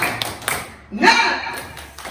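A group claps a few sharp claps in a quick rhythmic pattern, with a voice calling out in the middle.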